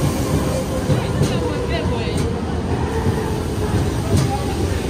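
Steady rumble and rattle of a moving train heard from inside, with murmured voices in the carriage.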